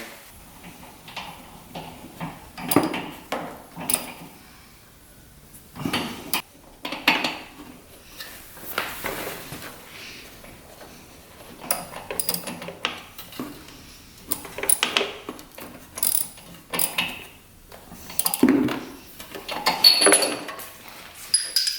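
A spark plug being threaded and tightened back into a 500cc tracked dirt bike, with metallic ratchet clicks and small tool clinks in irregular bursts separated by pauses, close and moderately loud, no talking.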